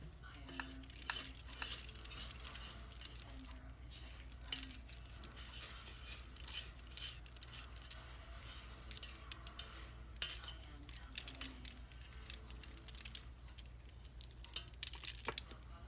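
A spatula scraping and tapping in a pot of caramel icing, with quiet, irregular clinks and scrapes repeating throughout at close range over a faint steady background hum.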